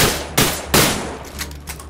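Two sharp, close gunshots ring out in the survival video game Rio Raised in Oblivion, each crack followed by a ringing decay, then fainter clicks trail off.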